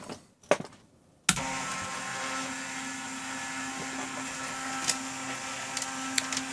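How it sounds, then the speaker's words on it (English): A ThinkJet printer printing a page starts up after a couple of brief clicks and then runs as a steady, close mechanical whirring hum, with occasional sharper ticks over the continuous drone. "let's see what that looks like here being printed out on this, because sometimes the ThinkJet is not the most cooperative printer"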